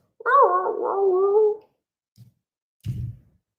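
A dog whimpers in a drawn-out, wavering whine that trails off, followed by a couple of faint low thumps or shuffles nearby.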